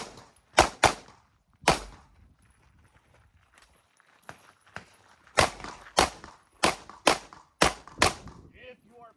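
A competition pistol fires on a shooting stage with loud, sharp, nearby reports: a few spaced shots first, then a rapid string of about seven, with faint movement between them.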